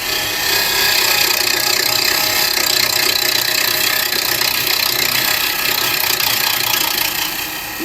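A wood lathe spinning an elm burr while carbide chisels cut it: a loud, steady whirring drone with a continuous rough scraping hiss held throughout.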